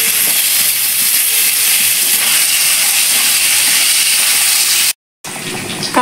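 Salted, turmeric-coated cut potatoes hitting hot oil with cumin seeds, giving a loud, steady broadband sizzle that hisses continuously, breaks off briefly near the end, then resumes.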